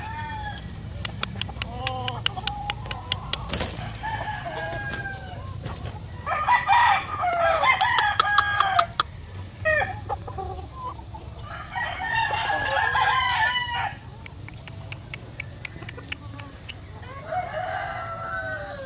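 Fighting cock roosters on a breeding farm, asil crossed with sweater and kelso lines, crow repeatedly in long bursts while hens and birds cluck and chatter around them, with a steady outdoor background hum.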